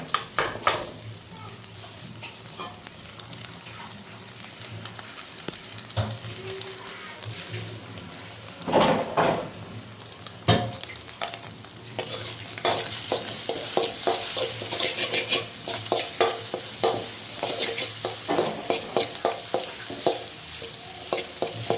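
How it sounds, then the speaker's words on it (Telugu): Food frying in a pan on a home stove, with a steady crackling sizzle and scraping stirs of a spatula that grow busier and louder toward the end, close by, with a little faint talk in the background. "ఇది ఫ్రై అయిపోవాలి బాగా, పచ్చివాసన అనేది రాకూడదు కదా, బాగా ఫ్రై అవ్వాలి"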